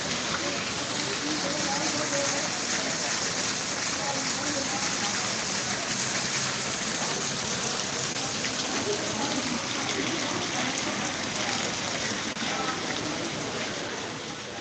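Heavy rain pours onto Lal Market on Gujar Khan road in Kallar Syedan. A dense, steady downpour hisses across surfaces, constant and fairly near, with faint voices now and then beneath it.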